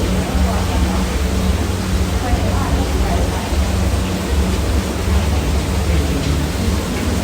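A cool waterfall pours down inside a cave, a steady, dense roar of rushing water that holds at an even level throughout, with no clear talk over it.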